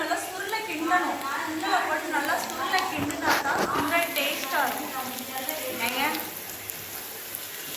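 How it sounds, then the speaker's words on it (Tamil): Boiled chickpeas for sundal frying in a pan with golden-brown onions, a soft continuous sizzle running under a person talking throughout. "வெங்காயம் நல்லா பொன்னிறமா ஆனதுக்கப்புறம் சுண்டலை போட்டு"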